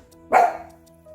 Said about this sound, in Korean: 오늘 멍멍이가 옆에 있어가지고 여러분 이해 부탁드립니다